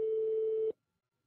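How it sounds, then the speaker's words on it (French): An iPhone 3G plays a steady single-pitch call tone after a number is tapped, clear and close, lasting about three quarters of a second before cutting off abruptly into silence. "Vous pouvez aussi toucher un numéro de téléphone dans un SMS pour appeler instantanément cette personne."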